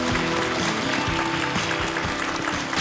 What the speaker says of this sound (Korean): 따뜻한 위로의 박수 부탁드립니다